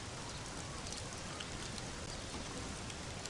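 Rain falls during a Backyard Football 2006 game as a dense, steady hiss of drops on the field, a constant wash of noise filling the background, with no talking.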